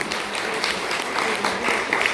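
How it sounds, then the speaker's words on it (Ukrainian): Audience at a women's prayer breakfast event gives sustained, dense applause that fills the room evenly throughout. "аплодисменти, дякуємо"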